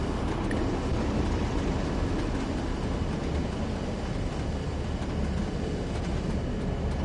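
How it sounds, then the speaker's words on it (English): A heavy freight train passes in Train Sim World 2, a steady broadband rumble and roar that stays loud and even throughout with no talk over it. "Oh, there's a passing train walks up the other way."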